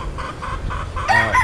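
Hens cluck and cackle close by in quick, chattering bursts, ending with a louder, higher squawk.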